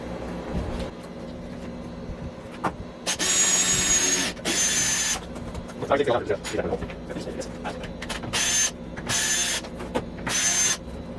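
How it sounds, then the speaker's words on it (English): An electric drill bores a pilot hole through a plaster wall, coming in several loud bursts of a few seconds each, separated by pauses, close by. "drill a small pilot hole to get a peek, drill a bigger hole to get a peek, and see what we got behind this plaster"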